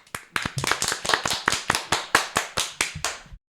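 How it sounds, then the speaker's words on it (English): A group of podcast hosts clapping hands in a steady run of about fifteen sharp, close claps, loud and evenly spaced, stopping abruptly at the end. "Everybody clap your loves, hands."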